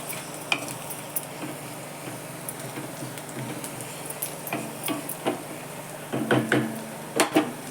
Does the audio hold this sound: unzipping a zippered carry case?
no